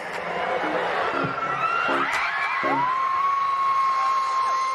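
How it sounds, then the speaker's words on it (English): A crowd of fans at a celebrity event whoops and shrieks, with rising and falling high-pitched yells and one long sustained scream over a steady crowd murmur, fairly loud throughout. "the crowd cheered loudly"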